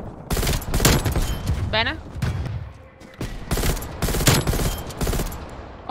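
Bursts of automatic gunfire from Call of Duty: Black Ops Cold War, loud rapid volleys coming in clusters with short pauses, with a person talking briefly between shots.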